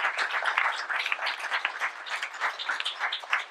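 Steady audience applause at a citizens' round-table on the Gazoduq and Énergie Saguenay projects, a dense crowd of hands clapping continuously at moderate volume with no voices over it.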